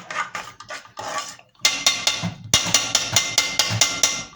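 Metal spoon clattering and scraping against a pot while stirring caramelizing sugar, a steady run of sharp, close, regular knocks getting busier toward the end, with no talk.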